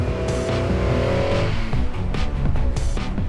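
A Y62 Nissan Patrol climbs a snowy hill at full throttle, its engine roaring and revving hard while the tyres spin and squeal on the snow, loud and continuous with no talk.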